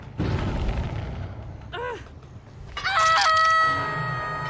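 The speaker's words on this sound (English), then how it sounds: "or was that just a bird?" In the horror video game Dead by Daylight, a crowing bird call rises and falls twice amid booming game effects and ambient rumble, loud and close in the mix.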